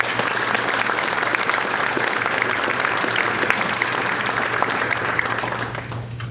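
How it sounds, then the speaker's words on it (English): Sustained applause from an audience at an annual awards breakfast, a dense steady wash of many clapping hands that holds loud and even for several seconds before easing slightly at the end. "Let's give them all a round of applause"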